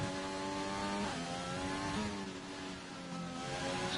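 A McLaren Formula 2 race car in a racing video game, its engine revving high and climbing through successive gear changes, each upshift marked by a brief pitch drop, loud and steady with no talk.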